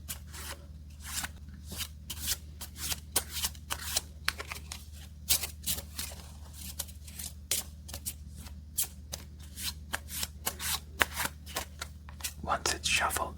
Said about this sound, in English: you want to shuffle it up